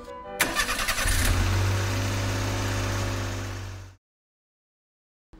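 A car engine cranks and catches, then runs with a steady mid-pitched hum for a few seconds at close range before cutting off abruptly into silence.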